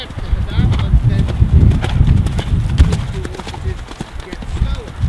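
Horse hooves clip-clop steadily on the ground during a jumping clinic, loud and continuous with a fast rhythmic beat while an instructor talks over it.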